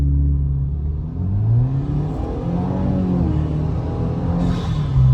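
Subaru WRX with a CVT transmission accelerating up a slight hill, its engine note rising smoothly and steadily from inside the car, loud and continuous with no speech.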